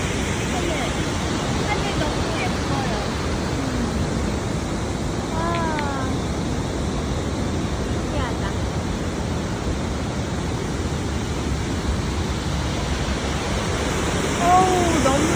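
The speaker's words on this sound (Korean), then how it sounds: "그 자연의 소리밖에 안 들려. 폭포 소리." A steady, loud roar of rushing water from a waterfall near Vancouver, Canada, poured out continuously, with a few faint bird chirps breaking through now and then.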